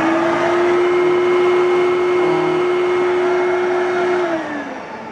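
A new-in-box Fantom Thunder vacuum cleaner runs steadily up close, its motor whining and the brush roll spinning freely on its belt, before the pitch falls away as it winds down.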